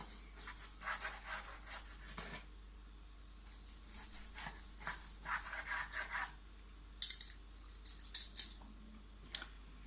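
A knife saws through a piece of cooked rump or sirloin steak on a plate, giving soft repeated rubbing strokes in several bursts, followed by a few light clinks near the end.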